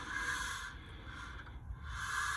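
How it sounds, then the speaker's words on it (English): Steel beads rolling and rattling inside a Centramatic wheel balancer tube mounted on a 4th gen Ram 1500 wheel, a steady gritty swishing rattle that rises and dips as the wheel turns, fairly close with no talk. "the noise you're hearing is the beads inside the tube for that balancer"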